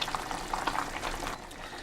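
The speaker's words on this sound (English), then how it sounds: "So I will just leave it and it keep on boiling." A pot of Nigerian white soup with yam boiling steadily on the stove, a continuous close bubbling and simmering hiss with small pops throughout, heard alone without talk.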